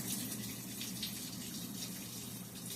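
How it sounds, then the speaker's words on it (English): Water rushing steadily into a faulty Whirlpool washing machine as it fills during the wash cycle, a constant loud gushing hiss with no breaks and no voices. "Oh good, it's adding more water."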